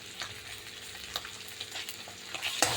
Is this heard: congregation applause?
no